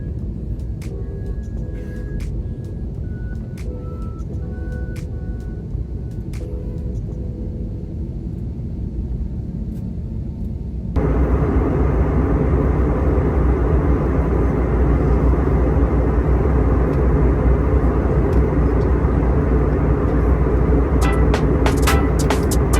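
An airliner departing for Cancun is heard from the cabin: a low steady hum, then a sudden jump into a loud, broad roar as the engines spool up for takeoff and keep thundering.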